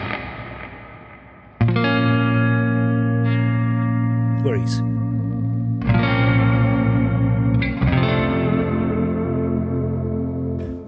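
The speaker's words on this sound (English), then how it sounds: "Some chorus, some delay. Really smooth delay because I use also a reverb with a really long tail." An electric guitar through a Mesa Boogie amp plugin with chorus, smooth delay and long-tailed reverb plays sustained, ringing chords, each attack blooming into a shimmering tail, after a brief spoken word.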